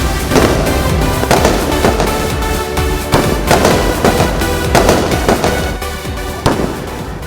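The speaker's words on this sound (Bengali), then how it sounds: "ফানুস, আতশবাজি আর ফায়ার গেমের আলোর রোশনাইয়ে আলোকিত হয়ে ওঠে চতুর্দিক" Fireworks and firecrackers go off at the Shakrain festival in a loud, dense barrage of overlapping bangs and crackles, with sharper blasts standing out every second or so throughout.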